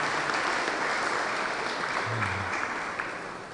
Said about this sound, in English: so you can clap again